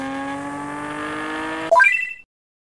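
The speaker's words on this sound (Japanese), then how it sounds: "最後は R33 のエンジン音でお別れだぜ。" A Nissan Skyline R33 engine in the game Car Parking Multiplayer drones steadily, then revs sharply upward in quick rising steps before cutting out abruptly to silence.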